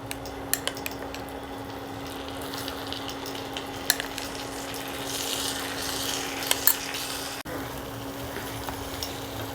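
Onion, ginger, garlic and chili paste fries in a pan after carom seeds, with a steady close sizzle, a steady hum, and sharp clinks of a metal spoon stirring and scraping, no talk.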